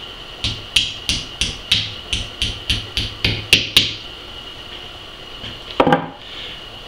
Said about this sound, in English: You want to pound this end of the nail down.